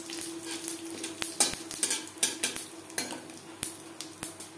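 Whole cumin, dried chilli and bay leaf frying in hot oil in a kadai, a steady soft sizzle punctuated by repeated sharp clinks of a spatula stirring against the pan.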